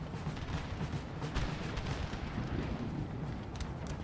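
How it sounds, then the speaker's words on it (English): Cannon fire on a Napoleon: Total War battlefield, a continuous rumbling barrage of distant booms and crackling musketry blending into a dense, low roar without clear individual shots. "Along with cannon fire and everything else as well."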